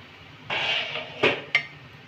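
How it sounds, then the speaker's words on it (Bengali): A metal lid lifted off a pan of dry-cooked potol and potato sabzi lets out a brief hiss of steam, followed by two close metallic clinks as the lid is set down, with no talking. "ঢাকাটা খুলে দিলাম"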